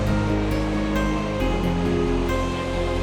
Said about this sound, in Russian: Всего в парке по обе стороны границы шумят 275 водопадов